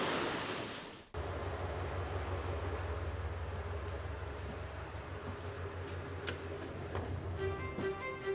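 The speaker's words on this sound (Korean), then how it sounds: "빗소리를 뒤로 한 채 뱃부행 열차에 몸을 싣는다." Interior of a train bound for Beppu, Japan, a steady low rumble of rolling wheels and carriage noise running throughout after a sharp cut near the start, with faint ticking and small clicks.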